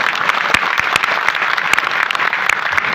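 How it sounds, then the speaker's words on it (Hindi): An audience at a devotional talk honouring martyrs claps, a loud, close ripple of applause with distinct sharp individual claps standing out throughout. "कोई ताली बजाओ"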